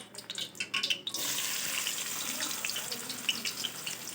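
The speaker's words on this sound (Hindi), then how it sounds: "अब इसमें हम पहले प्याज डाल देते हैं।" Chopped onions hit hot oil for a Pakistani brinjal curry (baingan salan), setting off a loud, steady sizzle that starts abruptly after a second of quieter clatter and continues evenly to the end.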